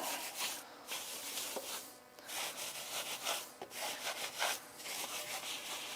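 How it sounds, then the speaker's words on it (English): A brush scrubs the inside barrels of car wheels coated in wheel cleaner, giving quick repeated rubbing strokes in an irregular rhythm, close and fairly quiet, with no voices. "I'm going to go ahead and clean up my wheel barrels."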